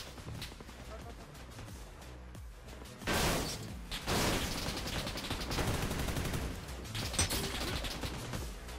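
Gunfire rings out in the mobile game PUBG New State in sharp bursts of shots that grow louder partway through, under a person talking.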